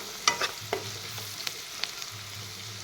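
Turmeric and chili powder stirred in a frying pan for a fish curry, giving a soft steady sizzle with a few sharp spoon scrapes and clinks against the pan, close and fairly quiet.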